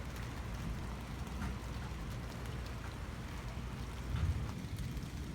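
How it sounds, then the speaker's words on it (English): Rain falls outdoors during a thunderstorm, a soft, even hiss that continues steadily with no talk. "I can't believe it's still raining."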